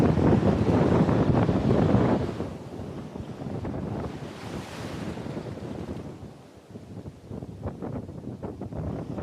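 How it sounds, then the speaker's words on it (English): Ocean waves break on the shore at Kailua Bay with onshore wind, a loud rushing wash of surf mixed with heavy wind buffeting, easing midway and surging again near the end. "I'm waiting for a break in the waves"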